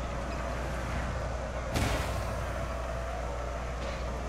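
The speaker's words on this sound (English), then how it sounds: "Our cannons are just blowing his front line to pieces, little by little" Cannons fire at a front line in a strategy video game, a single heavy boom landing partway through over a steady, dense rumble of battle noise, with no talking.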